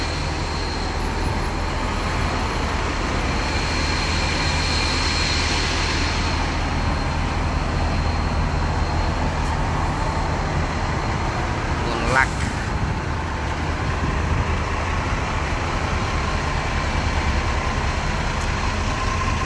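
Several buses idle beside a roadside restaurant in Taif, a steady broadband engine rumble with a low drone that holds evenly throughout, with faint background activity.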